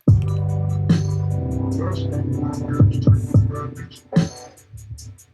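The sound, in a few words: parallel-compressed kick drum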